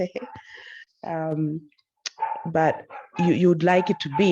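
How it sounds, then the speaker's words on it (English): Dogs barking in the background during an online talk, with sharp barks and whimpers mixed in and overlapping with someone speaking up close. "Apologies for my dogs."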